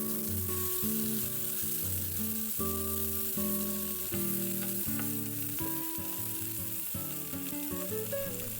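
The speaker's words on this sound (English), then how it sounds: "Fry for a minute over medium-high heat." Vegetables, including zucchini, stir-fry in a wok over medium-high heat for a Korean squid dish, giving a steady, close sizzle and crackle that runs unbroken throughout, with tonal music playing over it.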